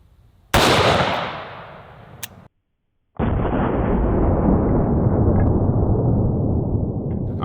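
A .44 Magnum revolver fires a Hornady XTP hollow point into a ballistics gel block: one sharp, loud blast with a long decaying boom, a brief gap, then a sustained loud rumbling roar.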